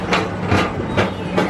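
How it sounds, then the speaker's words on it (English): A PeopleMover train ride at Magic Kingdom, a loud steady rolling rumble with rhythmic clatters repeating about every half second, up close and without talk. "And now we got this whole people mover train all to ourselves."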